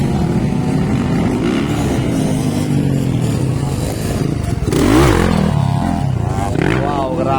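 Small underbone motorcycle engines buzz loudly and close during a women's race final, their pitch climbing and dropping as they rev and pass, with a commentator's voice talking over them.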